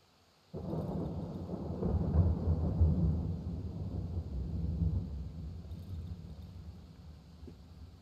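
Thunder from a storm breaks in suddenly as a deep, rolling rumble that swells, holds for several seconds and slowly fades, heavy and low with no voices over it.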